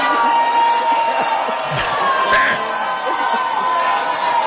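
An upset crowd shouts at a public appearance. Overlapping yells and raised voices make a steady, fairly distant din, with a few sharper bursts standing out.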